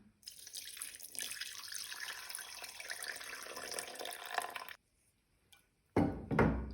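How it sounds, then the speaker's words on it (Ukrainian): Water runs steadily from a tap for several seconds while rye bread dough for Darnytskyi bread is being mixed, then stops abruptly, followed after a pause by a short, louder splash and clatter. "Добавляємо воду по рецепту."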